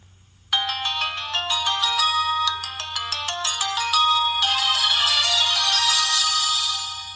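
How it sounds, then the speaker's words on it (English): A bright electronic ringtone plays a quick melodic pattern of chiming notes, loud and close, then swells into a sustained shimmering tone. "That's what my alarm clock on this phone sounds like."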